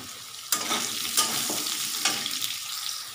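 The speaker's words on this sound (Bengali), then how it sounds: "আলুটা ভেজে নেবো, একটু লাল লাল করে ভাজবো" Potato pieces frying in hot oil in a pan for a bhola fish curry, a close steady sizzle with a few sharp stirring scrapes and clatters and no talking.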